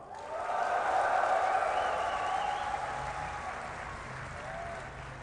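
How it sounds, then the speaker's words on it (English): Audience applauding and cheering at a DreamHack StarCraft 2 tournament, a sustained wash of clapping from a large crowd that swells and then slowly tapers, with some voices mixed in. "Give a cheer for the Swede MaDFroG."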